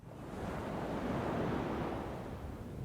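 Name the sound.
ocean waves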